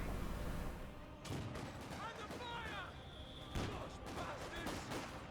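An artillery barrage in Company of Heroes 2 sets off a continuous, rumbling run of booms and blasts, with a commentator talking over it.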